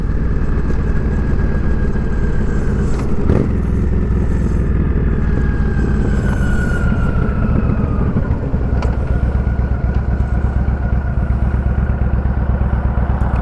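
A Yamaha V-Star 1300 cruiser fitted with Cobra highway bars and saddlebags rumbles along at a steady pace, a loud, constant low engine drone with wind noise and a slight rise and fall in pitch as it rides.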